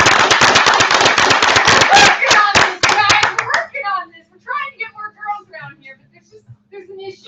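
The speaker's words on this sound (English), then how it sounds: "Everybody give a round of applause." An audience at a startup class claps loudly for several seconds, a dense rattle of hands that breaks off abruptly and is followed by someone talking.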